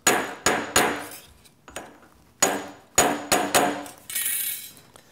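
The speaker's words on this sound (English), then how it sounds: "I'm going to tap down on top of a brass shim so I don't mar the surface." Copper soft jaw being tapped down onto a brass shim, about ten sharp metallic hammer taps in uneven bursts, close and ringing briefly, followed by a short scraping rustle, with no talk.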